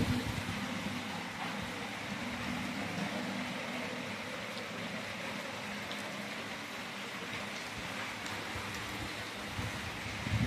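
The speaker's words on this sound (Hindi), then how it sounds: "बारिश बड़ी तेज है।" Steady, dense rain hisses continuously at a fairly even level, a broad wash of falling water with no voices.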